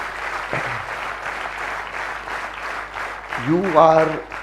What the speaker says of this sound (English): give yourself a clap of that